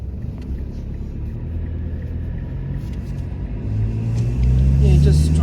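A car drives past Happy Valley Reservoir in Australia, a steady low road rumble and engine drone that swells louder and heavier toward the end, as if accelerating or passing close.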